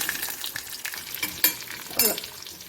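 Chana dal, urad dal and cumin seeds frying in hot oil for chutney make a steady crackling sizzle, broken by sharper spattering pops and the scrape of stirring, close by with no talking.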